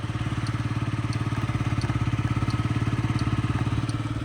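A fuel-injected Yamaha Jog SA39J scooter engine idles close by with a steady, even, rapid putter that keeps a constant rhythm throughout.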